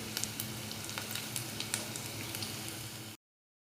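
Onion fries in a pan for a soybean mixed dal dish, giving a steady close sizzle with faint crackles and no voices.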